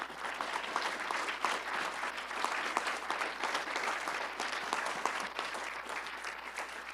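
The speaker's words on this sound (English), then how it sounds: "One more round of applause, please." A crowd at a university Hall of Fame ceremony gives a sustained round of applause for a coach, the clapping thick and even from start to finish.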